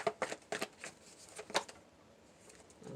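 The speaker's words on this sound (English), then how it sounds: "Let me shuffle once." Quiet riffling of tarot cards being shuffled in a few quick bursts, followed by near silence.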